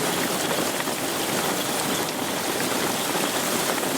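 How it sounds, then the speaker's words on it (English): Steady rain pours down on a caravan roof, a dense continuous hiss of drops drumming on the surface close by, with no voices. "Look at the rain on top of the caravan out there."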